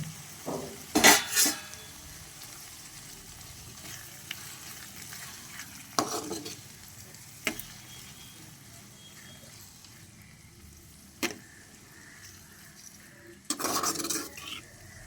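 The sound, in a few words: cooking onions, tomatoes and green chilies in a pan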